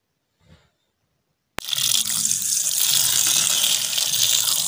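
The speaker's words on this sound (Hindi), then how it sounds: "उबाल के इसका पानी जो है वो निकाल रहे हैं" After a moment of quiet, water suddenly gushes out in a steady splashing pour as the bitter cooking water is drained from boiled vegetables.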